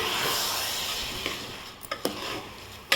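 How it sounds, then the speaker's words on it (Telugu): A spoon scrapes and knocks against a pot of rice and lentils for khichdi over a soft sizzling hiss, with a few sharp metallic clinks near the end. "సో ఇప్పుడు ఇంకా రైస్ వేసుకున్నాం కదా ఒక్కసారి కలిపేసుకుందాం"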